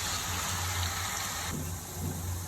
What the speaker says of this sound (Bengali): আলু দিয়ে দিব, লবণ দিয়ে দিব, হলুদ দিয়ে দিব, ভেজে নেব